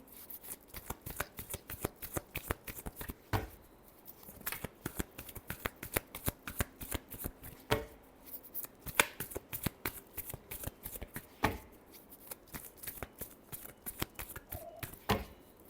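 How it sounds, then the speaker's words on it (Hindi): Tarot cards are shuffled by hand in a long run of quick, crisp riffles and slaps, close and fairly soft, with dense irregular clicks continuing throughout. "last shuffle"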